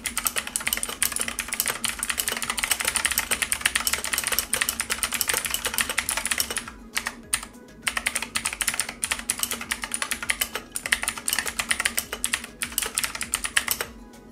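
Rapid, continuous clacking of keys on an Aukey mechanical gaming keyboard, close and crisp, with brief pauses between bursts of typing.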